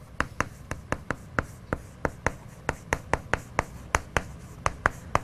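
Chalk or marker writes on a board during a classroom lecture, heard as a quick series of sharp, evenly spaced taps and strokes, close and distinct.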